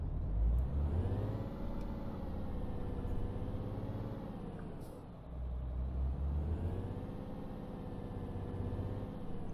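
A truck drives through Italy in Euro Truck Simulator 2, its engine holding a steady low drone with subtle pitch swells and a brief dip midway, continuous and fairly close.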